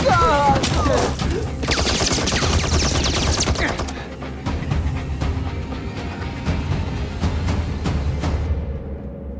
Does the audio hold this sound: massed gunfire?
yes